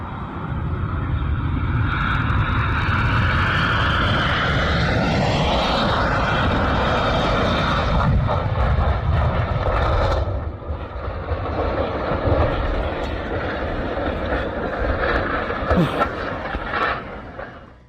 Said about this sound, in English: A Jeju airplane lines up on the runway, engines building power as it prepares for takeoff